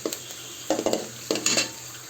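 Onions softening in hot oil in a pot, a low sizzle broken by a few short stirring scrapes and clinks, close and clear with no voices.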